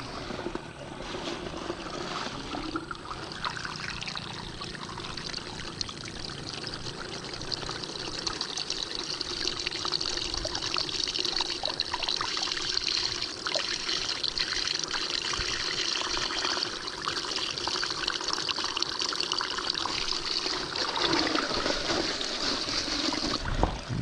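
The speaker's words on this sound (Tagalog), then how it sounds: "ngayon po atin munang lilinisan ng tubig po ito" Water pours and splashes continuously for rinsing catfish fingerlings before their release into a fishpond, a steady rushing, trickling flow up close with no talk.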